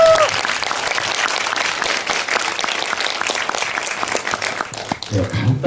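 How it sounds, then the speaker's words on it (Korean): Audience applause at a question-and-answer talk after a screening of Platoon at the Busan International Film Festival. The clapping is dense and sustained for several seconds, then tapers off, with a voice briefly heard near the end. "큰 박수 한번 부탁드리겠습니다"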